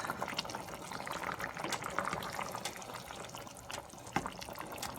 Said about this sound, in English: you just continue to boil until the macaroni and the potato will continue to cook